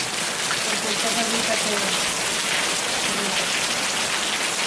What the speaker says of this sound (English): A lot of rain in Dawson City.